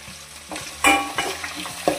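Onions, green chilies and cumin frying in a pan, a close sizzle broken by several scraping stirs and a few firm knocks of a spatula, with no voices.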